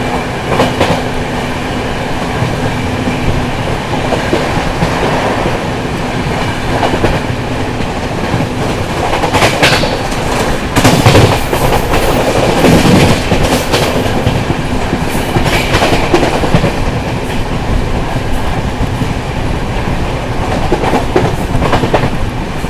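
The 12555 Gorakhdham Superfast Express rolls on rails near Mandi Adampur station, heard from on board as a steady loud rumble with clattering wheels and occasional sharper knocks, no voices.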